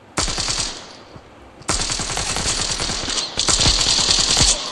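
Automatic gunfire in the shooter game Standoff 2 comes in three long, rapid bursts of loud, close shots separated by brief pauses, with no talking over it.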